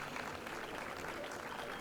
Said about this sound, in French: sous les applaudissements de l'assemblée